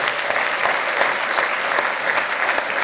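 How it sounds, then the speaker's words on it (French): Audience at a French sports award ceremony in Aveyron claps steadily, a dense, even round of applause filling the room without pause. "On peut applaudir, s'il vous plaît, le papa de Bertrand."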